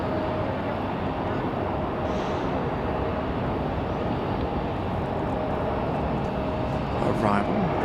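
An Endeavor Air jet arrives at Raleigh-Durham airport, its engines a steady broadband roar heard from a gravel lot at the runway's end on a windy day, swelling slightly near the close.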